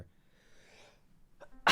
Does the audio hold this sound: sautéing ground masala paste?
no